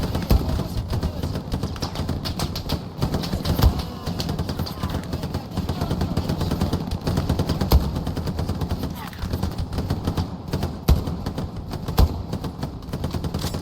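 Rapid bursts of rifle and machine-gun fire crackle across a marsh battlefield in the Hell Let Loose World War II game, sharp repeated shots over a steady din while players talk over radio.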